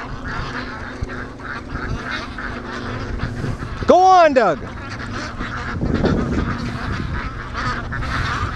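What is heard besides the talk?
ducks on a lake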